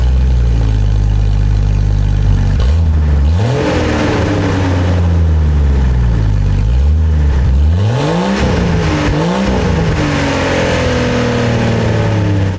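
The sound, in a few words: Jeep Cherokee XJ engine running with old exhaust removed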